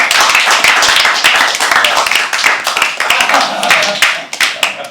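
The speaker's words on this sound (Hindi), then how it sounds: "हां जी एक बार रजत के लिए तालियां।" Audience clapping at a live poetry open mic at The Habitat, loud and close, a dense continuous patter of many hands with voices and cheers mixed in throughout.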